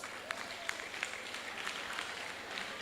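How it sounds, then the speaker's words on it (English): An audience at a 35th anniversary class reunion gathering claps faintly in a scattered, uneven patter, with a few sharper individual claps standing out over a quiet room. "Clap for yourself."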